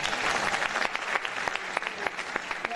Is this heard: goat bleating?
no